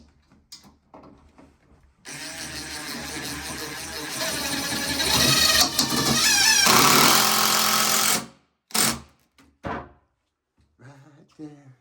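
A power driver runs screws into a six-panel bifold door, a loud continuous whirring buzz lasting about six seconds, followed by a few short clunks and handling noises, with no talking.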